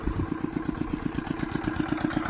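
A small engine runs steadily to drive a water pump motor while the power is out, its regular rapid thumping pulses chugging close and loud with no talk.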